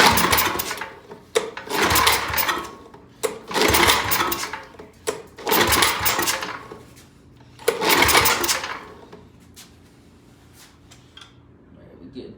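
The gas engine of an Ariens RT7020 tiller runs near at about half throttle, surging in loud rough bursts every couple of seconds and dropping to a lower idle between them.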